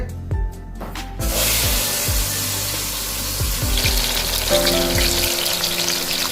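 Chicken pieces dropped into hot oil in a pressure cooker on a gas stove, a few dull thuds and clinks and then a loud, steady sizzle and crackle that keeps running with no talk.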